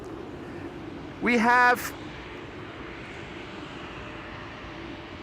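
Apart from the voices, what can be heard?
KLM Embraer E2 airliner at Schiphol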